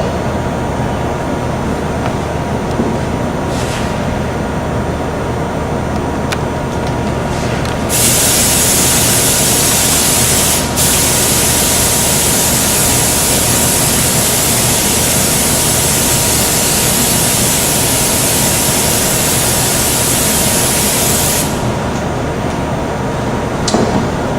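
A Wagner GM5000 electrostatic spray gun coats a part in a loud, steady hissing spray that bursts on and runs unbroken for about fourteen seconds before cutting off, over a constant background hum of compressed air and equipment.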